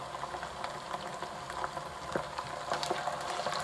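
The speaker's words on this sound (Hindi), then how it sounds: "अब हम इसमें कलेजी शामिल कर देते हैं।" Mutton liver (kaleji) frying in a pan with onions that have already been fried, giving a steady, moderate sizzle with occasional light stirring clicks throughout.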